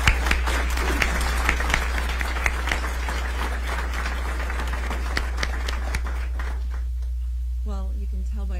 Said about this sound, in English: Let's give all our dignitaries a big round of applause.